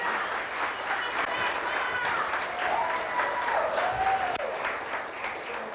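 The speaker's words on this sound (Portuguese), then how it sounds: "Uma salva de palmas" A church congregation claps together in steady, dense applause for several seconds, loud and close, with voices mixed into the clapping.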